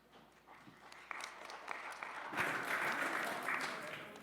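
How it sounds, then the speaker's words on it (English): Audience applause for presenters and panelists at a summit, starting faintly and swelling into fuller, steady clapping from a room of people partway through, with some background murmur. "can you give a big round of applause to all of our amazing presenters and panelists today"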